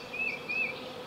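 Honeybees from a swarm buzz in two short, high, whining passes close by, each rising and fading in under half a second, with no voices.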